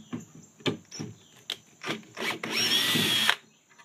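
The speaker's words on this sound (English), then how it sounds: "So we'll start taking it apart with these bottom feet. 1/4 inch nut driver." A 1/4 inch power nut driver backs screws out of the feet of a home deep fryer, with short whirring bursts and clicks followed by one longer, higher-pitched run, close and alone.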